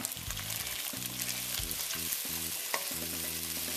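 Thin strips of beef for beef and broccoli sizzle hard in a hot pan, a loud continuous frying hiss broken by scraping stirs and clanks of a utensil against the pan, with no talking.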